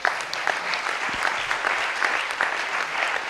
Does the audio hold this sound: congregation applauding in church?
yes